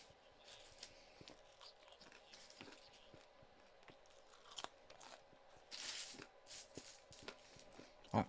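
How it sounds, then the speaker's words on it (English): Crunchy chips from the end of a bag being chewed near the microphone, a steady run of small crisp crunches and bites over several seconds, faint against a quiet room background. "I love the little crunchy chips at the end of a bag as well"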